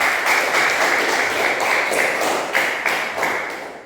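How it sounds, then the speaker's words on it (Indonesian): Classmates in a school classroom clap for a group, a brief burst of steady applause from a small crowd of children, fairly close and without talk. "tepuk tangan untuk teman-teman"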